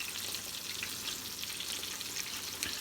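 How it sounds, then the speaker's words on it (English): Honey lemon sauce simmers in a pan, giving off a soft, continuous sizzle and bubbling hiss with small pops, heard quietly and alone. "we're going to let this come to a light simmer while the chicken is still cooking"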